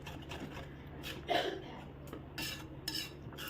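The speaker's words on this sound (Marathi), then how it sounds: "आता आपण मिक्सरमध्ये बारीक करून घेतलेली ही ग्रेव्ही ॲड करून मसाले आणि ग्रेव्ही चांगलं एकजीव करून घेणार आहोत." A spoon scrapes and knocks in a pan, mixing spices into blended gravy for paneer butter masala, with soft irregular scrapes and one sharper clatter, close up and quiet with no talk.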